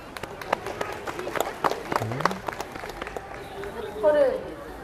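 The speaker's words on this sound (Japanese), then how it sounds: "拍手するたびにみんな足を踏み鳴らしてるのあれなんだろう" At an outdoor festival band performance, a crowd claps and stamps its feet in scattered sharp hits and thuds, fairly faint, while voices talk over it.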